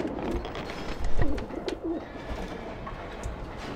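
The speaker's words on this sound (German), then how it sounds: "Da sind Tauben." Caged pigeons coo in the video game Alice: Madness Returns, a few soft, low throaty murmurs amid a busy background of game ambience.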